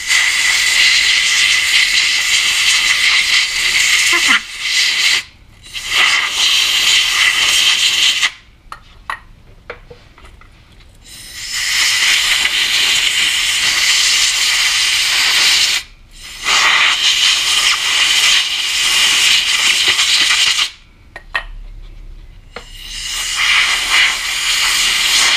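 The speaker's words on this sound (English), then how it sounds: "I'm gonna go ahead and take my air hose and just blow out any excess oil" Compressed air hose blowing out freshly cleaned Can-Am trailer wheel bearings, a loud steady hiss in several long bursts separated by short pauses, close up with no talking.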